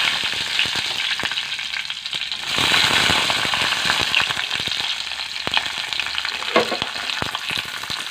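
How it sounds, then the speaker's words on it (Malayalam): Green chilies fry in hot oil in a pan, giving a steady bright sizzle with scattered sharp crackles and pops, and no voices. "പിന്നെ ഇതിലേക്ക് നമ്മുടെ പച്ചമുളകും ജസ്റ്റ് ഒന്ന് ചൂടാക്കിയിട്ട് എടുക്കാം."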